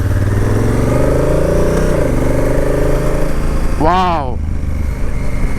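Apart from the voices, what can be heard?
motorcycle engine riding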